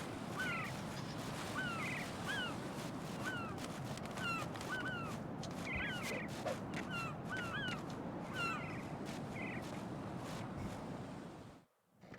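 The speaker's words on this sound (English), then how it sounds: "Goddamn seagulls." Seagulls in Metal Gear Solid 2 give repeated squawking cries over steady surf-like ambient noise, the calls coming in scattered bursts at moderate distance before the sound briefly cuts out near the end.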